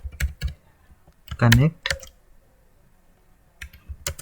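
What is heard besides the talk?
typing a command on a computer keyboard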